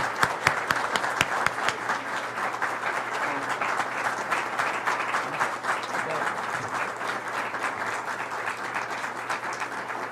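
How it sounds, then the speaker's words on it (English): Sustained applause from a crowd honoring the newly named Archbishop of Philadelphia, a thick, steady roar of many hands clapping with a few louder individual claps at the start, continuing for about ten seconds. "Give him a round of applause."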